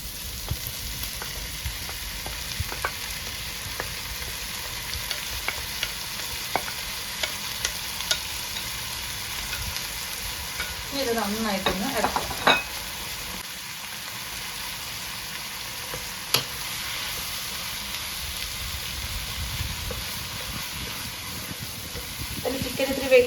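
Onions and aromatics being sautéed in a pan for chicken lasagna, a steady moderate sizzle with repeated spoon scrapes and stirring clatter, and brief faint talk partway through.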